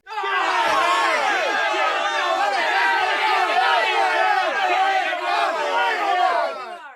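An angry crowd charges up a hotel stairwell in an audio drama, many voices shouting and roaring together in a loud, dense, continuous din that holds steady for the whole stretch.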